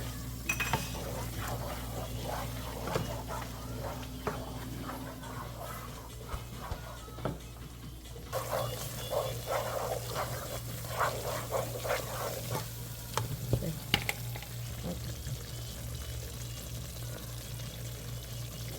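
Prasad (sirnee) mixture with nutmeg and cardamom being stirred in a pot, faint scraping and light clinks of a utensil repeating irregularly over a low steady background hum, close but quiet, no voices.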